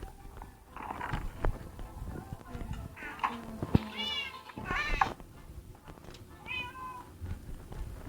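A cat in the video game Minecraft gives several short meows spaced across the moment, heard softly under people talking and chatting over the game.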